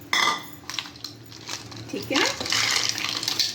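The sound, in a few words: ice added to grapes in blender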